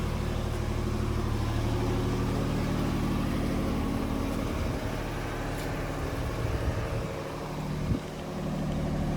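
A Genie/JLG boom lift engine runs at a steady, low diesel-like idle, moderately quiet and continuous, with a faint knock or clunk near the end and no voices.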